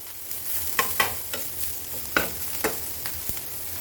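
Banana flower dry-frying in an open pan, a soft steady sizzle broken by several sharp scraping stirs of the spatula, close and moderately quiet, no voices.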